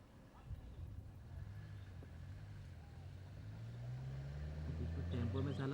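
A vehicle is driven up with its engine humming low, the rumble slowly growing louder and rising in pitch as it approaches near the end, with faint voices in the background.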